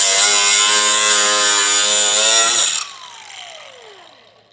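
High-pitched power tool whining steadily while cutting the plastic front fascia of a 2024 Jeep Grand Cherokee for a tow base plate, then cutting out and spinning down with a falling tone.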